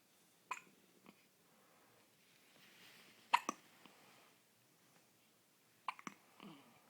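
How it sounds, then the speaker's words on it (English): A baby hiccups in a quiet room: three or four short, sharp hiccups, spaced a few seconds apart, with soft breathing between them. "What do we do about your hiccups?"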